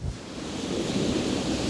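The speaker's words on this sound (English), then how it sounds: "above the waves, which are dropping all the time" Sea waves washing over a shingle beach at Chesil Beach, Dorset, a steady loud broadband surf roar with wind noise across the microphone, continuous and close with no break.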